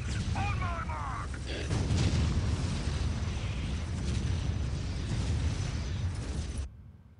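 An Imperial Guard artillery barrage in the strategy game Dark Crusade rumbles as a dense, sustained roar of overlapping booms for several seconds, then cuts off abruptly.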